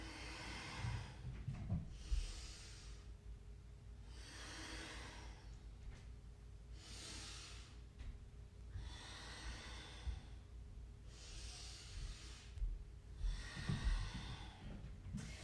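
Slow, deep yoga breaths come close and quiet, each long airy inhale or exhale followed by a short pause in a steady, unhurried cycle.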